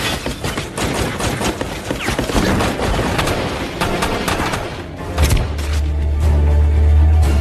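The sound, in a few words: gunfire exchange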